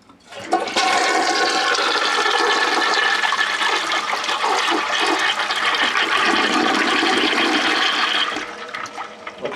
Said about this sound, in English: you can see that that'll flush no problem